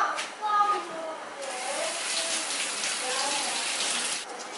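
Water from a tap runs steadily over bay leaves being washed, a soft continuous rush with faint talk at the start.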